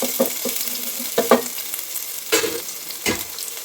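Masala and ginger sizzle loudly in a pan for paneer biryani, with a steady frying hiss broken by several sharp scraping stirs of a spoon against the pan, heard close up with no talking.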